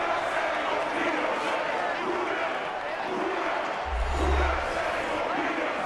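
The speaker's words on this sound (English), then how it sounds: "Let's calm the crowd." Loud, continuous roar of a football stadium crowd at an NFL game between the Cowboys and Saints, a dense wash of voices that swells slightly and stays constant throughout.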